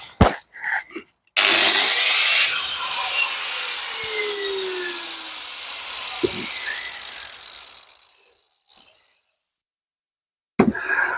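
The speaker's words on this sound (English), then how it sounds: "We'll go back in with the grinder only this time." Angle grinder cutting into brick and stonework, a loud continuous high-pitched whine with shifting pitch lasting several seconds before spinning down, with brief knocks before and after.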